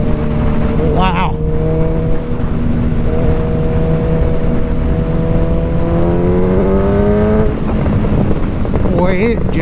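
A 2024 25th Anniversary Suzuki Hayabusa motorcycle engine pulls hard under acceleration, its loud droning pitch climbing steadily through a gear and then shifting, with heavy wind rush over the microphone.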